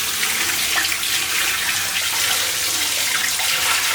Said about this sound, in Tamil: டைரெக்டாக டேப்லேயே இந்த மாதிரி வச்சுட்டு நல்லா கழுவுனோம்னா